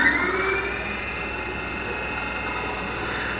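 A 50 horsepower electric motor runs with a steady, loud whine and hum that stays constant throughout.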